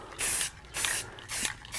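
Short hissing bursts of black spray paint aimed at a sign outdoors on a breezy morning: three sustained sprays of about a quarter to half a second each, close and fairly loud, separated by brief pauses.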